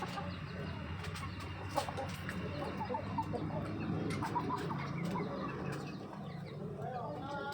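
Backyard chickens cluck and murmur close by, a busy scatter of short calls over a soft steady background, with one hen drawing others over to food.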